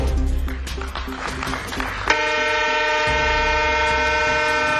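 A Rajdhani passenger train at a railway line opening in Mizoram sounds a loud, sustained horn blast over the rumble of rolling wagons, following a stretch of clattering wheels and shorter hoots.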